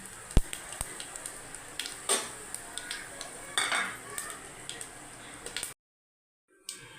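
Cinnamon, cloves and whole spices fry in hot oil inside a pressure cooker, with light clinks of a metal spoon against the pot, soft sizzling underneath, and a brief silent break near the end.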